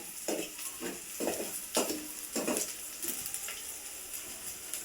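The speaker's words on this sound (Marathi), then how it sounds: "लाल लालसर होईपर्यंत भाजू द्यायचा" A mixture roasts in a pan, with a soft continuous sizzle under a rhythmic series of scraping strokes, about one every half second, fairly close and without talk.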